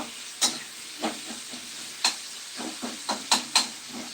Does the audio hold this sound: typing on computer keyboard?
no